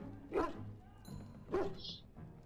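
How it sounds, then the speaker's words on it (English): A happy dog barks and yips in the video game Dragon Age Origins, two short bursts with softer whimpering sounds between them, set in a castle. "It's a happy dog."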